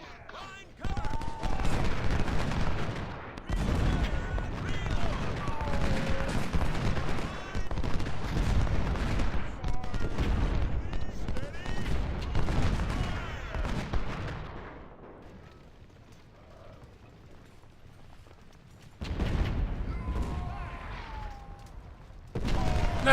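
Massed musket volleys and booming artillery from the Civil War battle game Ultimate General: Civil War, set at Chickamauga, roll on in continuous dense waves, dropping to a quieter lull before resuming, with a voice speaking over parts of it.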